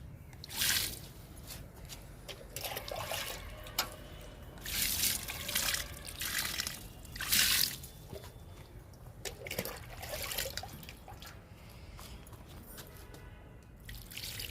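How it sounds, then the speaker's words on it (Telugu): Water splashes and trickles in uneven bursts as it is poured into fruit plant containers, fairly quiet and close, with several separate pours and pauses between them. "ప్రతి డబ్బాలో నీళ్ళు పోయాలండి"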